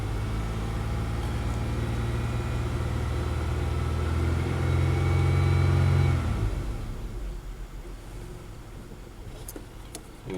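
A Buick LaCrosse with a 3800 engine revs up with a rising, loud engine hum, holds briefly, then drops back to a quieter idle with a few clicks toward the end.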